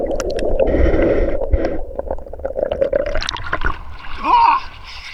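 Sea water at Dibut Beach splashing and sloshing in bursts, with a voice talking and shouting over the water.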